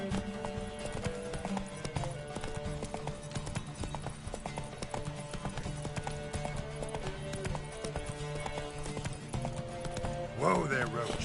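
Roach, a horse in The Witcher video game, gallops with steady, rapid hoofbeats, closely miked, then whinnies as it slows near the end, with voices speaking over the hoofbeats.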